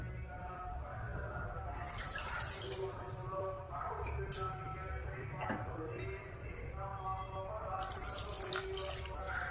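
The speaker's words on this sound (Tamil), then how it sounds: "அடுத்து நம்ம கரைச்சி வச்சிருக்க புளி சேர்த்துக்கிறேன்." Tamarind water poured into a clay pot of fish curry, a steady watery splashing and trickling that runs throughout with no gap, close and moderately loud, with a few brief louder splashes along the way.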